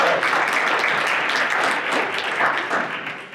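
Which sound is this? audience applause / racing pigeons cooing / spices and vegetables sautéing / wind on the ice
audience applause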